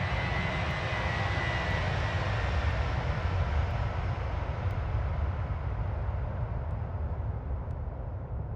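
Airliner engines roaring during takeoff in Microsoft Flight Simulator, a steady, loud broadband rumble with deep low-end weight holding constant throughout, no voices.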